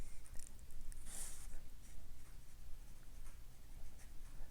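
A watercolour brush wiggles across paper while painting the ruffled petal edge of a red poppy, a soft continuous scratchy brushing heard close and quiet with no talking.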